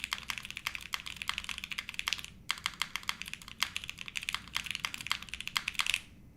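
Typing on an Enter67 v2 mechanical keyboard, a quick run of crisp clacky keystrokes in an uneven rhythm with a brief pause midway, close up and alone.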